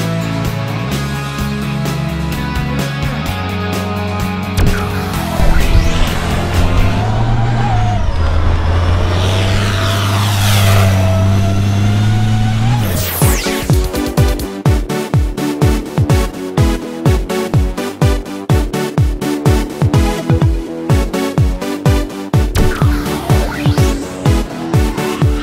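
A 2013 Ford F-150 FX4 pickup drives off-road, its engine droning loud and close with rising and falling revs, then a fast rhythmic series of thumps and rattles as the truck bounces over rough ground.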